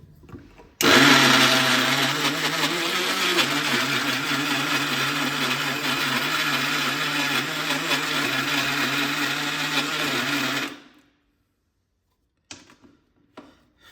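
Mixer grinder crushing peanuts for peanut chutney powder, a loud, steady whirring grind running for about ten seconds before it cuts off, followed by a few faint knocks.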